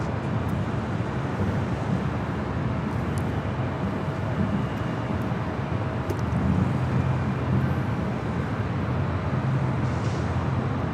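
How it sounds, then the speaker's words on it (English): A C-17 Globemaster III military transport arriving on runway 25 left at Los Angeles International Airport, heard as a steady, broad low jet roar with wind buffeting, continuous and fairly loud throughout. "C-17 arriving this morning on 25 left."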